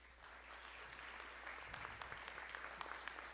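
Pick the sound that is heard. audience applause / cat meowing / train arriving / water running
audience applause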